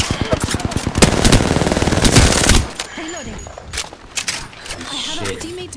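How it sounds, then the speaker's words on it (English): Rapid automatic gunfire from a video game blasts loudly for a couple of seconds, then cuts off as players talk excitedly, with a few scattered shots afterward. "No, I shot him many times."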